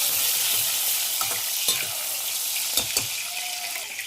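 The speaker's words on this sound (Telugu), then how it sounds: "టమాటాలు కూడా బాగా ఆయిల్లో కూడా మిక్స్ చేసేసుకోవాలి" Tomatoes and green chillies fry in hot oil in a pan, with a constant bright sizzle and several sharp scrapes and clinks of a spoon stirring, close and without speech.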